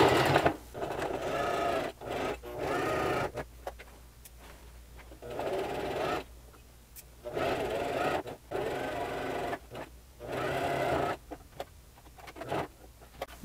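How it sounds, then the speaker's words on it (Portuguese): Topstitching on a jacket with a detachable zipper, where a sewing machine whirs in short bursts of steady rapid stitching broken by brief pauses. It sounds close and fairly loud, with no talking. "eu já vou voltar com a minha costura fazendo o segundo pesponto do lado desse aqui"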